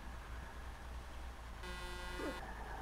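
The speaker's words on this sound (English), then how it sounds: "You don't need to honk the horn." A vehicle horn in the Arma 3 military video game gives one short, steady honk lasting under a second over a low engine rumble, heard at moderate distance.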